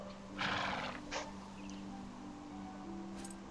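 A horse in the video game Dragon Quest 8 gives a short neigh with some hoof clatter, followed by quieter game ambience under a steady low hum.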